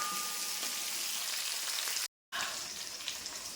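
Small shallots frying in hot oil for sambar, a dense, even sizzle and crackle heard close up and alone, cut by a brief moment of silence partway through.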